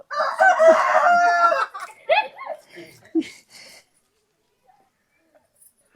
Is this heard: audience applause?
no